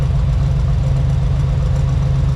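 A 1985 Chevrolet C10 Silverado engine idles in a shop, a loud, steady low rumble with an even rhythm.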